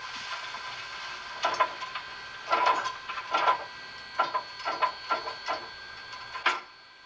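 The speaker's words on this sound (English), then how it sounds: "what you're hearing there is they're basically shaking out the ash pan" Bachmann PRR K4 4-6-2 model steam locomotive's ash pan shaking sound effect: a series of faint, rattling metallic clanks in uneven bursts over a soft hiss, quiet and alone.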